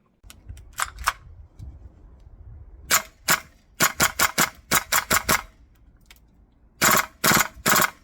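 A VFC HK MP7 gas blowback airsoft gun with Clutch Precision upgrades fires crisp, sharp cracks, first single and double shots, then rapid bursts of several rounds with brief pauses between.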